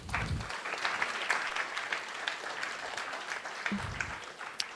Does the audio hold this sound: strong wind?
no